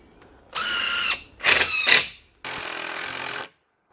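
Power driver sinking a screw into a pre-drilled hole in a homemade composite ridge beam, three short loud whirring bursts separated by brief pauses, close up with no talking.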